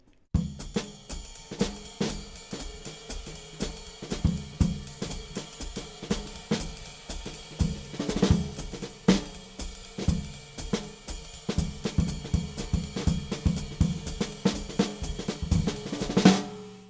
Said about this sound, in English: The ride cymbal and the hi-hat are most prominent, and then my feathering on the bass drum can barely be heard.